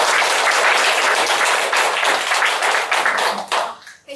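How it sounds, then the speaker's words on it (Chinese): An audience at a 2016 gathering bursts into loud, sustained applause, many hands clapping densely at close range for about four seconds before tapering off abruptly at the end. "所以给他一个掌声好吧"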